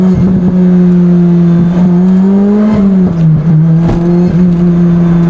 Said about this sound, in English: The pops and the bangs from the exhaust, just amazing.